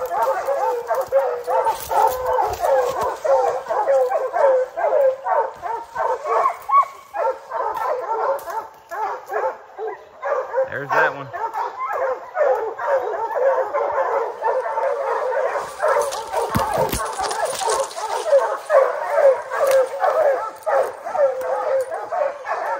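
Pack of hunting hounds baying and yipping continuously at bears treed in the woods during a bear chase, dense overlapping barks close and loud, with a few brief human voices underneath.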